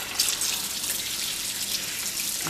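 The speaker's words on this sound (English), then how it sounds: "Rinse them individually because there might be some dirt hiding somewhere" Grape leaves are rinsed one by one under a running tap, giving a steady close rush of water splashing into a sink with no one speaking.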